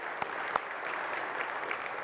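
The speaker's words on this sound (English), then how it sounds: "let's just give a round of applause to all who donated to this amazing cause" An audience at a township event claps for donors, a soft, steady patter of applause heard from a distance, with two slightly sharper claps standing out near the start.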